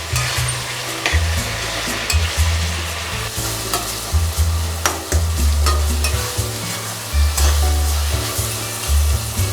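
Tomatoes being stirred as they fry in a pan for a soya chunks fry, heard as a loud continuous sizzle with repeated scraping and stirring clatter up close.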